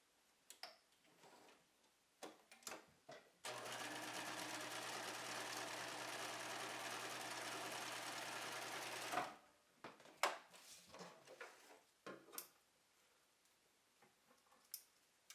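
A sewing machine stitches a pocket onto a bag in one loud, steady burst of about six seconds, framed by quiet clicks, fabric handling and small taps before and after.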